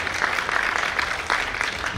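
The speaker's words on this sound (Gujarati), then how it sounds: "જેટલી તાળીઓ તમે વધારે પાડો ને એટલું આ લોકોને જોશ ચડે" An audience at a live stage show keeps clapping steadily, a continuous wash of applause at moderate level with a few sharper bursts.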